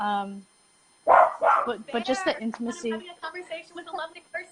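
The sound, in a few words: dog barking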